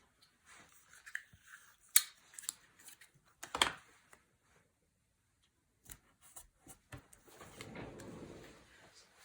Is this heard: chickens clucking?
no